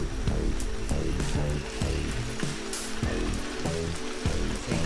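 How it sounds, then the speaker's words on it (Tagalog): Rain or water dripping from leaves during a mountain bike climb, a steady dense patter of drops hitting foliage and surfaces, fairly loud and continuous with no voices. "Ulan ba yan o galing lang sa dahon?"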